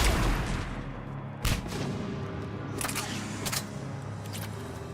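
Gunfire in the Mass Effect 3 video game, with sharp shots and bursts that cut through a constant rumbling background, a loud one near the start and several more later on.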